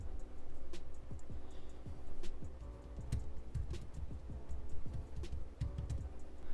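Light taps on a tablet touchscreen while notes are typed: a quiet, irregular run of soft ticks and clicks against a faint background rumble, close, with no talk.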